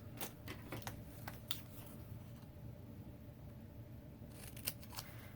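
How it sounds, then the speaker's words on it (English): Paper snips cut through card stock, giving a series of short crisp snipping clicks at a close, quiet level, irregularly spaced and heard without talking. "Where are my paper snips?"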